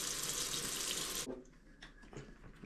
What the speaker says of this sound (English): And that's why I'm using the warm water.